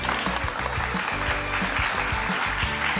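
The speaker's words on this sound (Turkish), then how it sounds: "Bir alkış." Applause for the women contestants of a televised competition show, a steady crowd clapping layered under rhythmic music throughout.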